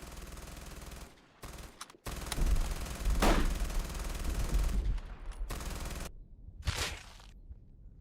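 Sustained machine gun fire in a stop-motion battle scene, rapid bursts under a continuous noisy roar with several abrupt cuts and short breaks.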